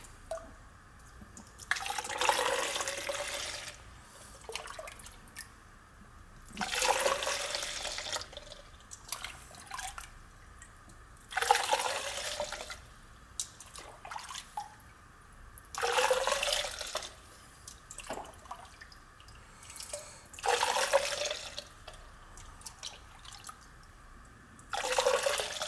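Water from a 90-plus gas furnace drain line pumped out through a funnel, coming in repeated gurgling, splashing bursts about every five seconds with quiet dripping between them.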